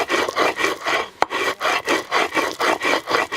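Stone rubbing on stone as chilies are ground on a metate in a Oaxacan village, a steady rhythmic back-and-forth scraping with about a dozen even strokes, close and clear, with one sharp knock partway through.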